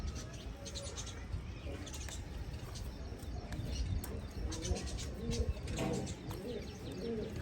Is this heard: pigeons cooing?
yes